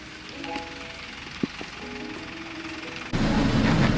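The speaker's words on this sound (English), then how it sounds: "It's raining." Light rain patters steadily with a few faint tones and a sharp tap, then the hiss suddenly swells louder and closer near the end.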